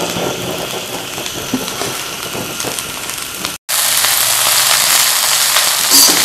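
Cabbage, carrot and capsicum cooking over a high flame, a steady hissing sizzle that runs broadly and evenly, broken by a brief silent cut before resuming slightly brighter.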